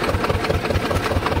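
Swaraj 724 tractor engine running steadily, a close, continuous mechanical drone with rapid rhythmic knocking pulses, heard alone without talk.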